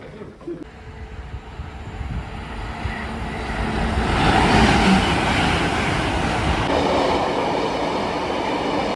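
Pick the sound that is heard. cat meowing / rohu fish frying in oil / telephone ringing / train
train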